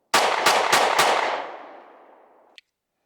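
Four rapid gunshots from a GP Arms 2011 pistol ring out loud and close, followed by a long reverberant decay and a faint metallic clink, with no talking.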